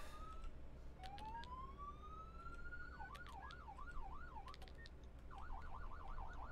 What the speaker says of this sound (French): Attends, c'est moi qui ai les sirènes là ou c'est toi?